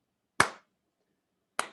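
Two sharp hand claps ring out alone in a quiet room, spaced more than a second apart.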